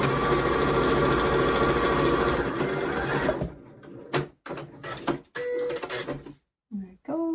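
A sewing machine stitching fabric for a make-up brush roll runs in a steady whirring buzz for about three seconds, then stops, followed by quieter handling noises and short bursts of speech.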